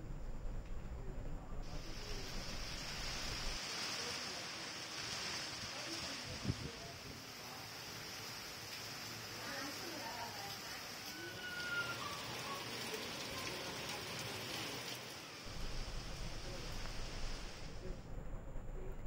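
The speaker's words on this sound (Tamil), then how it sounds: "பலத்த காற்றுடன் கூடிய மழை பெய்தது" Heavy rain driven by strong wind during a sudden thunderstorm, a steady broadband hiss of downpour lasting throughout, with a denser rush in the middle stretch.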